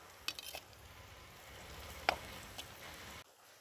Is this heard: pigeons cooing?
no